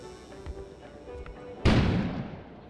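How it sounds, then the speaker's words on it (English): A sudden loud explosion outside in a snowstorm-set video game, a sharp broadband boom that rolls off over about a second, preceded by quiet low ambient rumble and faint thumps. "An explosion suddenly occurred outside."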